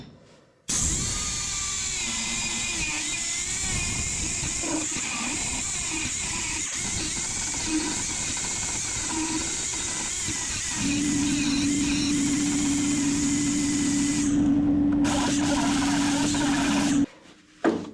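Grinder fitted with a cleanup disc stripping rust from a Datsun firewall: a continuous loud, high whine with scratchy abrasive rasping, the pitch shifting as it bites, then a steadier tone before it stops briefly and starts again.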